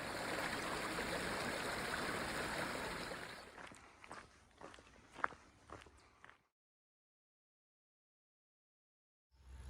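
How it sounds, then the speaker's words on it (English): A flowing stream along the Ice Age Trail near Badger State Park gives a steady broadband rush for a few seconds, then fades as footsteps crunch along the trail, followed by near silence. "actually a really nice flowing stream down there"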